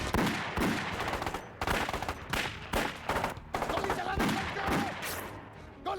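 Loud bursts of automatic gunfire in the climax of the film Sarfarosh rattle in quick repeated volleys, close and intense, with brief gaps and shouted voices between them.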